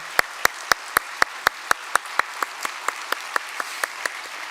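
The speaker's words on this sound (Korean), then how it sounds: "다시 한번 뜨거운 박수 드리겠습니다." Warm applause from a church congregation at a Sunday worship service in Korea, a steady run of sharp, evenly spaced claps that ring out loudly at first and then fade softer toward the end.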